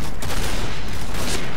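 Gunfire in the shooter game Point Blank, a silenced sniper rifle among dense bursts of shots and impacts, loud and continuous with little pause.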